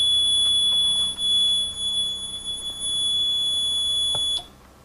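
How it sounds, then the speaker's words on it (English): A smoke detector on a home alarm system sounds during a test, a loud sustained high-pitched electronic tone that holds steadily, then cuts off abruptly near the end. "Okay, now the smoke detector."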